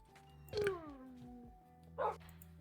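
A dog barks in the Minecraft mod TerraFirmaCraft: one sharp, fairly close bark, then a shorter yip about a second and a half later, over a low steady hum of game background.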